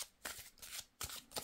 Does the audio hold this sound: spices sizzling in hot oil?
no